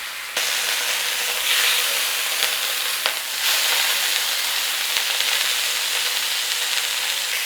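Beef searing in a hot pan gives a steady, loud sizzle and hiss that runs throughout, with brief crackles and spits as the meat is turned.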